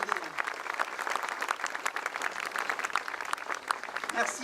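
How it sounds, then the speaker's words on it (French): Audience applause at a 14 July 2017 consular reception speech in Agadir, a dense, steady patter of many hands clapping throughout, fairly distant and moderate in level. "Vous pouvez les applaudir."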